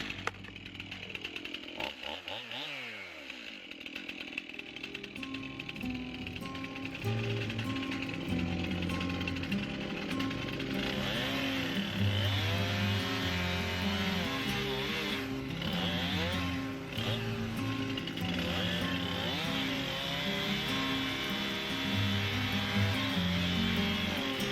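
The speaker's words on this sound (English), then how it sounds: "I don't think I can get the chainsaw underneath the fencing" A chainsaw cutting the top off a tree in a fenced yard, loud and close, revving up from a starting pull and then running continuously at high throttle with shifting engine pitch as the bar bites into the wood.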